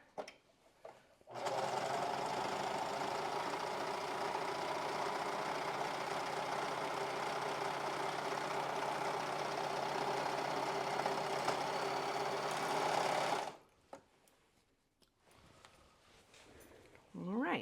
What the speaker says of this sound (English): now I'm going to go over to the serger